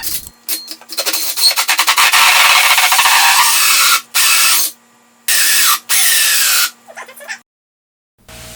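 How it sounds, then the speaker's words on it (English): A large power drill with a 4-inch bit grinds and rasps through wood, cutting a speaker port hole in long loud bursts, stopping and restarting several times before winding down. "Big 4-inch drill. I'm drilling the port here."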